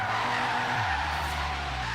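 Tires of a car in Forza Horizon 3 squealing and skidding through an e-brake drift, loud and sustained under a droning engine whose pitch sags and then climbs back as the slide continues.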